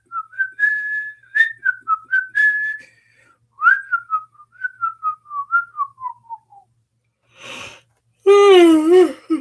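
A person whistles a tune, a clear melodic line of short rising and falling notes for several seconds, followed after a pause by a brief breathy sound and a vocal note.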